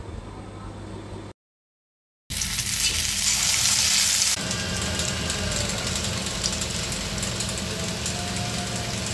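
Biryani chops, rice cutlets coated in gram-flour batter, sizzle in hot oil in a wok over low heat, a loud steady frying hiss that breaks off briefly near the start and then continues unbroken.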